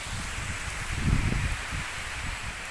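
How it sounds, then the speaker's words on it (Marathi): Steady breezy rustle of leaves stirred by wind, swelling briefly midway with a low gusty rumble, no voices. "आणि वारं पण सुटायला लागलं"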